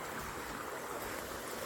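Water pouring from a pipe beside a river at Champaran, a constant rushing, splashing wash heard close up with no breaks and no voices.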